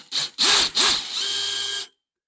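A handheld drill's chuck is tightened onto a drill bit: two short whirring bursts followed by a longer steady whine that stops abruptly, close and clear with no talking.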